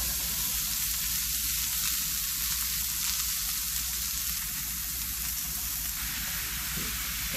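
Ground beef sizzles in a hot cast iron skillet, a steady crackling hiss of frying that stays even and fairly close throughout, with no voices.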